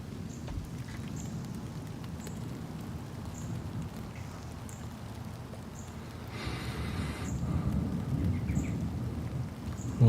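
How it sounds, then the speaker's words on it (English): Layered recorded rain and thunder from a nature sound device, a constant patter of rainfall beneath a low rumble that swells toward the end, with a brief brighter burst of heavier rain partway through. "Sometimes I add another layer, a little thunder, because you can do 2 at a time."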